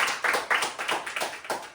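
A team's hand clapping, a roughly rhythmic run of about seven sharp claps close by, moderately loud, with no talk over it.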